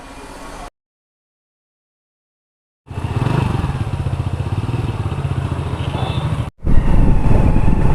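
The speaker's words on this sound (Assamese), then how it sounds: "বাইক ই চলাব" A motorbike engine runs with a steady throbbing, close and fairly loud, starting after a silent gap and cutting briefly before resuming.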